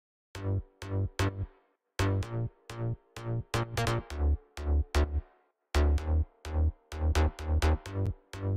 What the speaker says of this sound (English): So all 3 of those together with the sub bass sounds like this.